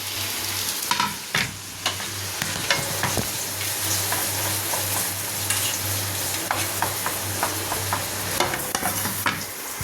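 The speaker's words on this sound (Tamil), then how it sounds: "வெங்காயத்தை போட்டு வெங்காயம் நல்லா கோல்டன் ப்ரௌன் ஆகிற வரைக்கும் வறுக்கணும்" Two medium-sized chopped onions fry in a pan for a green chicken curry, with a steady sizzle and repeated scraping stirs of a spoon at a close, even level, alone without any talk, and a low hum underneath.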